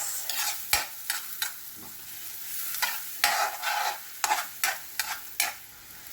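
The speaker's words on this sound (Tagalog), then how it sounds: "Lagay na natin ang ating bawang at sibuyas." Garlic and onion sauté in melted butter in a pan for pork caldereta, with repeated close scraping stir strokes over a steady, crackling sizzle.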